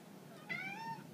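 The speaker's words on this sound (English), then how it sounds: "the tightrope cat, whatever made him climb up there" A cat perched on a tightrope gives one short, faint meow with a rising then falling pitch, heard alone against a quiet background.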